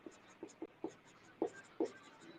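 A pen writes on paper with about six short, soft scratching strokes in an uneven rhythm, faint and close by.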